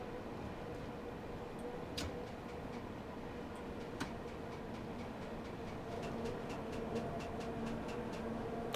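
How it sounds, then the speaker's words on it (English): A freight train crosses a bridge in the Train Sim World 3 game: a low, steady rumble with faint distant rail clatter and a run of rhythmic clicks toward the end, heard under ambient noise. "there's a freight train up there on the bridge. You can hear it."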